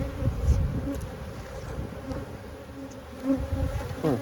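Honey bees buzz on a hive frame in a steady, close drone, with a few louder swells as individual bees pass near.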